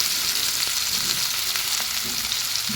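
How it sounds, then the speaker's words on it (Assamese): Onion frying in oil in a home kitchen, a continuous bright sizzle with occasional stirring scrapes, close and steady, no talk. "এতিয়া সেই তেলতে মই পিঁয়াজ দিলোঁ অলপ।"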